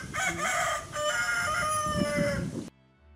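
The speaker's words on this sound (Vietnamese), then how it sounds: "Con gà trống kêu thế nào?" A rooster crows loudly and close by, one long drawn-out cock-a-doodle-doo lasting over two seconds before it cuts to quiet.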